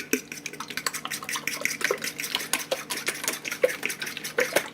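A whisk or fork clinks rapidly against a bowl while eggs are lightly beaten, a busy irregular rattle of close, bright taps and scrapes with no voices.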